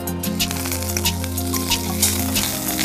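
Mint and drumstick leaves frying in hot oil, a loud close crackling sizzle with sharp pops throughout, over a steady low hum, without speech.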